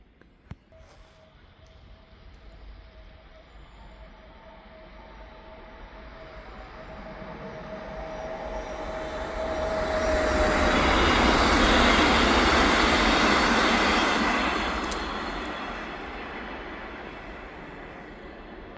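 A Montreal REM light rail train on winter test runs in Pierrefonds approaches from afar, swelling to a broad rumbling roar with faint wheel squeal as it passes near, then fading away; no talk.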